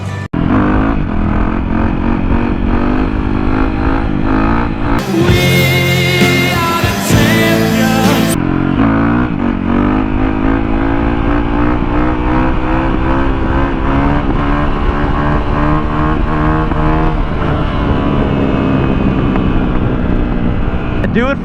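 A motorcycle revs loudly and roars past as it is ridden on wheelies, its engine note rising and falling through repeated passes, with wind buffeting the microphone.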